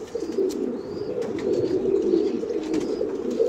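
A female pigeon coos with a steady, low, rolling warble that continues for several seconds. She is one of the birds kept for flying in Oman. Faint chirps sound in the background.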